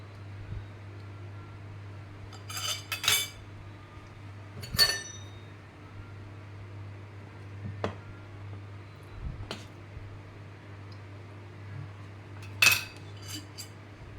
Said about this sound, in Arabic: بس انا هقطع لكم حته صغيره